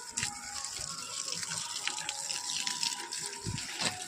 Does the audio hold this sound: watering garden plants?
yes